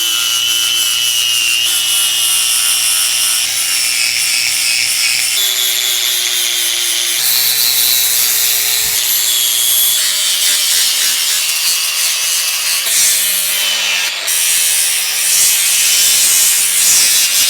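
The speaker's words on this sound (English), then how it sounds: "So we got the welds from the brackets ground off." An angle grinder grinding welds off steel brackets on a Range Rover, a loud continuous abrasive whine that shifts pitch in steps as pressure changes, close and alone with no talking.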